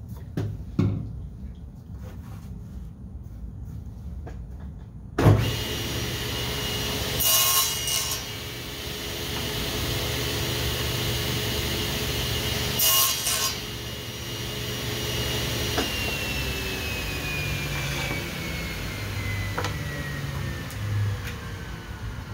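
Quarter-inch plywood being rough cut into fuselage sides for a scratch-built RC plane, a steady continuous cutting noise that starts abruptly and runs on at close range, with a couple of brief louder bursts and no talking.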